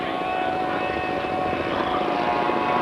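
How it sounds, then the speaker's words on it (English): A Waco YMF-3 biplane flies at an air show, its engine a steady, droning buzz held at moderate distance throughout a short stretch with no voices. "Also flying up in the same time as Terry is Wacko biplane"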